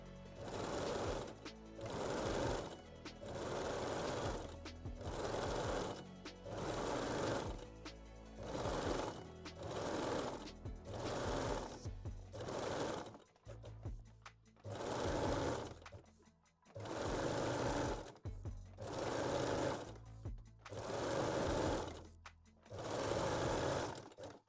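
A sewing machine stitches picot elastic onto a lingerie waistline in steady repeated bursts of rapid mechanical chatter with brief pauses between runs. It sits close and fairly quiet, with no voices.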